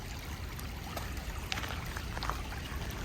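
Creek water rushes over rocks in a fern canyon in California, a steady close wash of flowing water with no talk.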